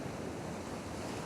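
Ocean waves surge onto a rocky photography shoreline in a steady, dense wash of surf with wind noise buffeting the microphone, continuous and fairly faint throughout with no voices.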